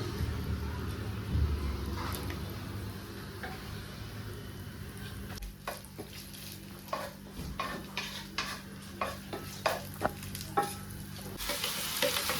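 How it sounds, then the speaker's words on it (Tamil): Coconut pieces and cashews roast in a pan: a soft, steady sizzle with scraping stirs and sharp clinks of a utensil against the pan, growing busier toward the end. "கொஞ்சம் தேங்காய் பல்லும் முந்திரியும் போட்டு வறுத்து எடுத்து வச்சுக்கலாம் தனியா"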